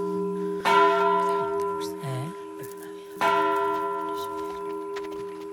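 A large bell rings out twice, a few seconds apart, each strike booming and then slowly decaying with a long ringing tail, with a brief voice heard between the strikes.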